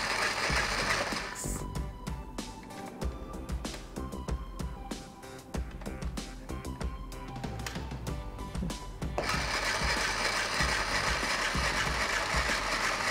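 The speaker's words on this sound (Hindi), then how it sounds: "ये हमारा कपड़ा आगे की तरफ जा रहा है, सिलाई हो रही है, मशीन जो है यहाँ पे चल रही है" A toy sewing machine runs steadily while stitching cloth, producing a continuous mechanical whir with rapid rattling, gear-like clicks. It is loud and close, with a brief pause in the middle before the motor picks up again.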